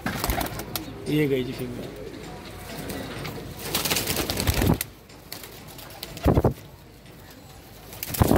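Pigeons in a loft coo in soft, rolling bursts close by, with occasional wing flaps. Someone talks over them in Hindi or Urdu.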